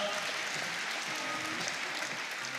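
Soft, distant applause washes steadily through the crowd at the 2022 French bouldering championship finals in Plougoumelen. It is a continuous, even hiss of many hands with no voices standing out.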